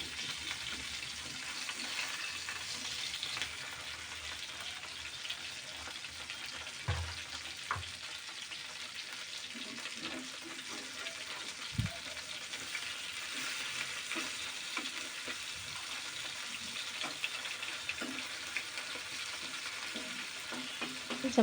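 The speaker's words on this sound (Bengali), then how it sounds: "হালকা করে ভাজবো" Poa fish from the sea frying lightly in a pan, a soft continuous sizzle with scattered clicks and thumps as the pieces are turned, fairly quiet throughout.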